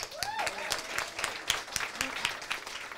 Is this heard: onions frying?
no